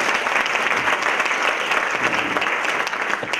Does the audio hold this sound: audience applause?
yes